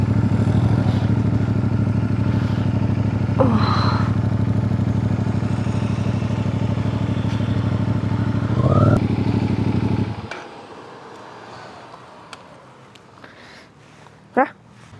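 A motorcycle engine runs as the bike rides onto a ship for the Samar to Surigao crossing: a steady, close, loud rumble that cuts off about two-thirds through, leaving quieter background and a brief clatter.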